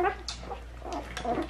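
Newborn Great Dane puppies whimpering and squeaking close by, a few short, high, thin cries in quick succession over a low steady hum.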